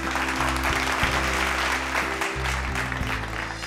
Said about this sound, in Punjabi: ਇੱਕ ਵਾਰ ਜ਼ੋਰਦਾਰ ਤਾੜੀਆਂ ਜੀ ਸ਼੍ਰੀ ਸੁਰਿੰਦਰ ਬੱਚਨ ਜੀ ਲਈ